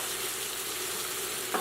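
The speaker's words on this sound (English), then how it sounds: "So our fish is done searing here." Fish searing in a pan for keto-friendly vinegar-stewed fish, a constant close sizzle and crackle of hot oil with one brief clink near the end.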